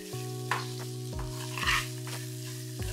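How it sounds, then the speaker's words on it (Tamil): Grated coconut sautéing in a hot pan for a coconut-jaggery dumpling filling, a steady close sizzle broken by several sharp scraping stirs of a spoon against the pan, with no voices. "தேங்காய் போட்டு 2 நிமிஷம் வதங்கினா போதுங்க."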